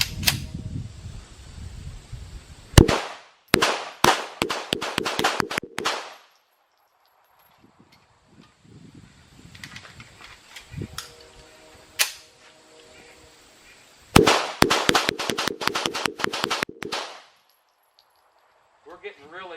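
A Tisas BR9 pistol fires during a 1000-round endurance test: one sharp shot, then two rapid strings of loud, cracking reports, separated by a stretch of quieter low-level activity.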